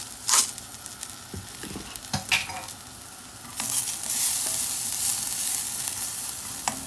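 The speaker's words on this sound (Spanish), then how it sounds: "Aquí le vamos a echar al aceite el ajo y la cebolla." Garlic and onion sizzle steadily as they fry in hot oil in a pan, a continuous crackling hiss that grows fuller partway through, with occasional sharp pops and clinks.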